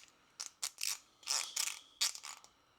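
A thread-cutting tap works forward and back in metal on a 1928 Roadster build, giving a few close, separate ratcheting scrapes and clicks in quick bursts with no voice.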